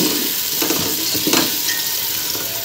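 Kadhi cooking in a pot on the stove gives a steady, close bubbling sizzle with a few soft stirring scrapes, with no voices.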